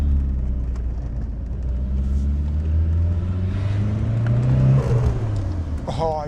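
Car with a freshly rebuilt forged engine, driven for the first time after months off the road, with a steady close engine drone rising through acceleration, while people talk over it.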